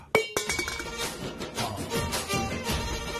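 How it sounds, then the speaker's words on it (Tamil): A metal water pot is struck at a doorway in a Tamil TV drama scene, giving a sharp, loud clank that rings on briefly before fading into a busier metallic clatter. "அது மணி சத்தம் இல்ல, சொம்பு சத்தம்."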